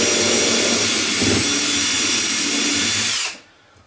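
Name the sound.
power drill drilling holes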